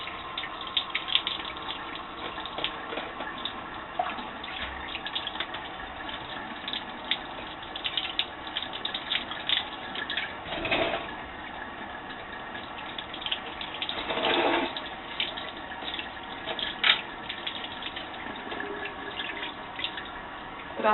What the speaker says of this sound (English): We're going to wash the feet, and I think we can use warm water here to get them really clean.